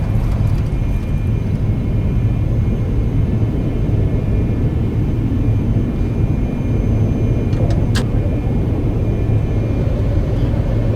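Steady, loud aircraft engine drone and rumbling roll from the X-Plane 11 flight simulator game, a continuous low roar through the whole stretch with a faint click partway through.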